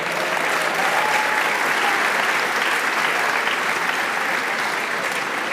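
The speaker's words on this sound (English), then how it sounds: "not attending today, but please a round of applause." An audience at an MBA and EMBA graduation ceremony claps steadily, a thick, uniform roar of many hands holding level throughout.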